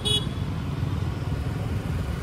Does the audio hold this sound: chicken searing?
no